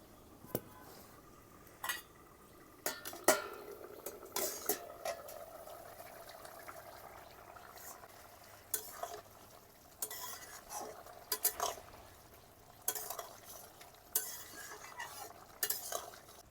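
Pork with bamboo shoots is stirred in a pot after half an hour of cooking, irregular clanks and scrapes of a utensil over a faint bubbling simmer, close and moderately loud, no talking.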